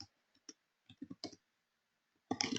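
A computer mouse clicking in short, irregular single and double clicks, close and quiet, with a busier burst of clicks at the end.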